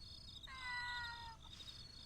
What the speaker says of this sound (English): the kitty meows and the sound comes from the microphone or speaker